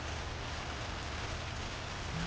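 Rain falls outdoors around a school, a soft, even hiss of drops heard steadily throughout, fairly faint and without any talking.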